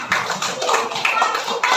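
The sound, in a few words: group applause, clapping hands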